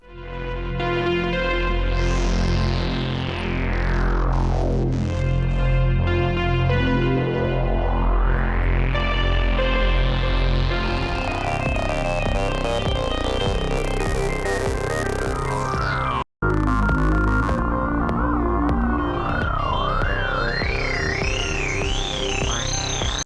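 Demo sounds from the BP Synth, a $20 synth board, loud and continuous with harmonic-rich tones, sweeping filter and pitch glides, a brief dropout near the middle, then a warbling vibrato lead.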